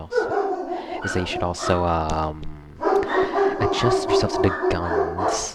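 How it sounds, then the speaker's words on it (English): Dogs bark and yip in the background of a home, repeated sharp barks scattered throughout while someone talks over them. "Sorry for the barking in the background."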